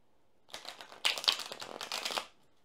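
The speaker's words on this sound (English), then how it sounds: "as I shuffle the cards" Tarot cards being shuffled by hand at close range, a run of quick papery riffles and flutters lasting about two seconds, with no talking.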